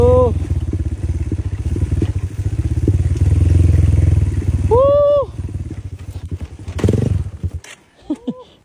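A trail motorcycle engine rumbles loudly and close, revving unevenly as it works over rough ground, with brief squeaks and clatter near the end.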